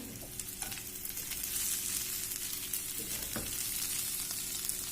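Kerala-style chicken roast frying in coconut oil with curry leaves makes a steady, close sizzle with constant crackle and occasional soft stirring scrapes.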